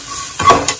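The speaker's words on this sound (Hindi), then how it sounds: "इन सारी सामग्री को 1 मिनट के लिए हम सेक लेंगे।" Crushed garlic, cumin and desiccated coconut roasting in a pan for Mumbai-style wada pav, a brief close sizzle with a quick stirring scrape lasting under a second.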